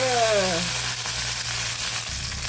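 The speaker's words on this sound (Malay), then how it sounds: "Jom kita nak goreng dia dengan daun kari dengan halba sedikit ya" Curry leaves and fenugreek seeds sizzling in hot oil in a wok, a steady loud frying hiss that settles after an initial splutter, with no talk.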